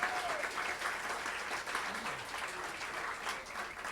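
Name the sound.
audience applause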